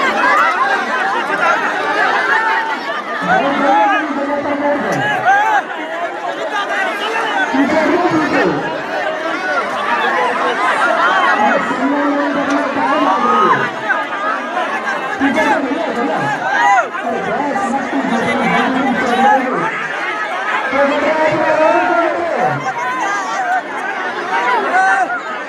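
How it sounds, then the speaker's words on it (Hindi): A large crowd chatters steadily in a long evening queue at Manona Dham temple, a dense continuous babble of many voices with occasional louder calls close by. "बहुत ज़्यादा भीड़ थी।"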